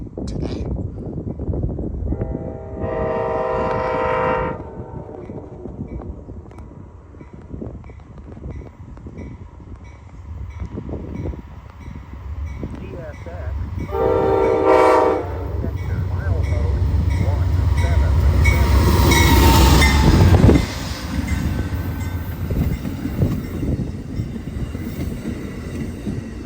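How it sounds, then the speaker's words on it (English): The Amtrak Maple Leaf 63 passenger train rumbles past at close range, wheels clattering and squealing in bursts, with a horn-like tone sounding twice and the roar building to a peak near the end. "Next up is Amtrak Maple Leaf 63, running over an hour late today."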